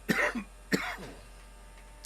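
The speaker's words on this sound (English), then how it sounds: "No, I'd like to cough." Two short, close coughs, a brief pause between them, followed by a faint small sound near the end in an otherwise quiet room.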